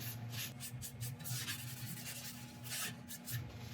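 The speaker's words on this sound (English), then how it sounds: "I'm just going to quickly give this a wipe over with some isopropyl alcohol" Repeated rubbing strokes of a cloth with isopropyl alcohol across a turned elm wood piece, close and rhythmic, each swipe a soft brushing hiss, with no talking.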